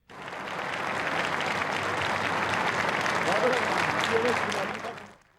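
Sustained applause from an audience in a television studio hall greets the mother of Metin Göktepe, a dense, steady wash of clapping with some voices mixed in, holding for about five seconds before cutting off.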